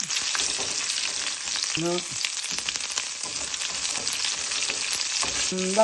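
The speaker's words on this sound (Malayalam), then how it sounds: "ഞാൻ കടുക് ഇടാൻ പോവാണ്. കടുക് പൊട്ടാൻ തുടങ്ങി. നിങ്ങൾ സൗണ്ടൊക്കെ കേൾക്കുന്നുണ്ടല്ലോ." Mustard seeds pop and fry in hot oil for a Kerala-style mango pickle, giving a loud, continuous sizzle with scattered crackling pops, close up and with no talking.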